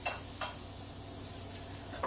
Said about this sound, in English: caramelising them just in a little bit of olive oil and butter